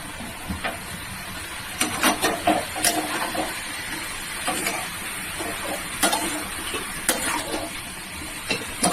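Spices and shrimp sizzle and crackle in a hot pan for a Bengali prawn dish, with a steady hiss. Scattered clinks and scrapes come from a spoon stirring against the pan.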